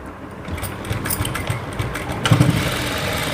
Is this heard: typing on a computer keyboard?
no